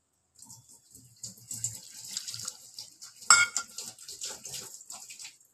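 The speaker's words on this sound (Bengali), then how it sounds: "জল দেবো সেদ্ধ করার জন্য, যাতে চিকেনটা একটু ভালোভাবে সেদ্ধ হয়।" A little water poured into a pan of chicken to boil it, a light splashing trickle with a brief clatter of a utensil or pot midway, close and fairly quiet.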